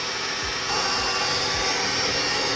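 An electric mixer whirs steadily as confectioners sugar goes in for a truffle pie, its motor hum getting a little louder partway through, with soft thumps underneath.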